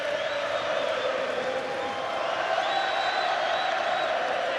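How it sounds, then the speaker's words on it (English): Belfast fans at a professional boxing title fight roar steadily for their local fighter, a dense, continuous arena crowd noise with cheers and whoops rising throughout and a commentator talking over it. "Belfast's faithful, Conlan's fans trying to raise the man."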